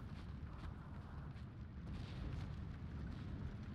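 Distant artillery shelling rumbles steadily in the WW2 real-time tactics game Steel Division 2, a continuous low booming roar without distinct separate blasts.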